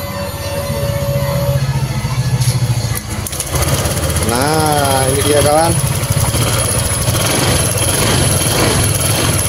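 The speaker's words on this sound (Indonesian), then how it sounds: "Nah motor sudah menyala ya, motor sudah berbunyi." A Honda Vario 150 scooter engine, fitted with a new ignition coil after a loss of spark, starts and keeps running with a loud, steady close hum, while someone speaks over it.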